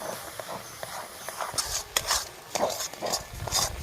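A spoon stirs semolina cooking in milk in a pot, making repeated scraping and clinking strokes against the metal, moderately loud and close, speeding up and growing busier toward the end, with no talking.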